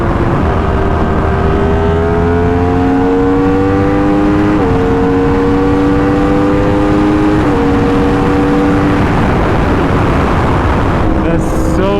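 A Yamaha R1 sport bike runs on a dyno, its engine wailing loud and close through rising gear-like pulls and shifts for the whole stretch, with a brief drop near the end.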